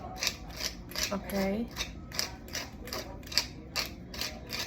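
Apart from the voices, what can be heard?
pepper grinder grinding pepper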